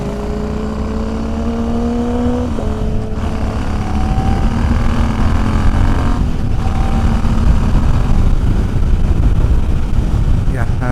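Royal Enfield motorcycles, including a Scram 411 and an Interceptor 650, ride along a road on a morning group ride. A loud, steady engine drone with harmonic tones that shift in pitch as the bikes change gears, accompanied by heavy wind rumble.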